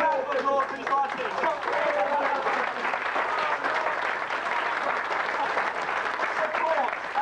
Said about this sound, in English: Marvellous, a big round of applause for you, Martin.